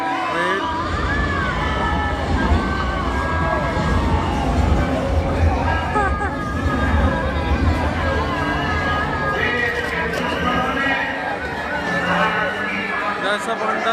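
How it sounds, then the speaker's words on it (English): Dense crowd chatter and shouting at a Durga Puja pandal in Kolkata during Navratri, a steady wall of babble with passing traffic rumble mixed in throughout. "Look at the crowd, guys."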